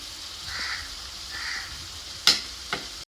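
Spices with oregano and chili flakes sizzle steadily in a pan for Maggi noodles, a soft continuous frying hiss with two sharp clinks of a utensil near the end.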